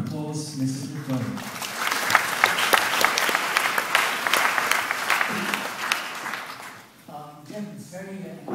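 An audience at a speech and Q&A event in Singapore breaks into warm applause, swelling into a full, sustained round of clapping that fades away, with someone speaking before it starts and again once it ends.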